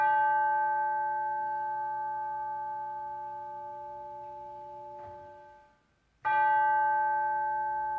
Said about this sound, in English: now we will center our hearts and minds with the ringing of the bell